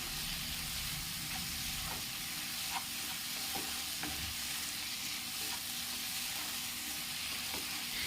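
Two chopped tomatoes sauté for a chicken curry and are stirred, making an even, constant sizzle and hiss with occasional light spoon taps over the whole stretch.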